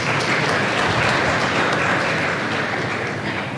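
A crowd applauds loudly and continuously at a radio station disaster-preparedness dialogue event, dense overlapping claps filling the whole moment without pause.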